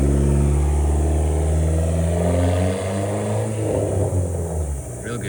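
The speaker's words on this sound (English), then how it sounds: "The whistle sounds great." A 2005 Dodge Neon SRT-4 engine revs loudly and alone nearby, its steady drone rising and easing with a high turbo whistle laid over the mechanical hum.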